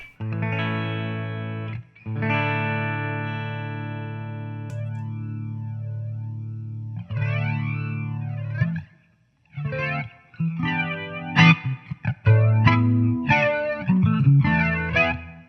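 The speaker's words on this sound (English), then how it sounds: "the best way I think just to hear the flanger is to hear it clean" Clean electric guitar chords and notes through an MXR EVH Flanger into a Marshall amp miked with an SM57, light reverb, a sweeping, whooshing flanger effect rising and falling in pitch, played alone.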